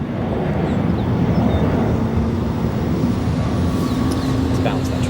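A Frontier Airbus A321neo departs O'Hare's runway 22 left, a steady broad distant jet roar rumbling throughout with a voice talking over it.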